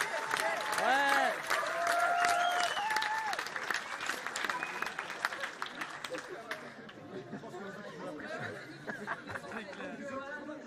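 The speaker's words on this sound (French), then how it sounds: "est-ce que vous pourriez les applaudir s'il vous plaît?" Applause from a convention crowd in Lyon that gradually thins out, with chatter and a little laughter mixing in as the clapping fades.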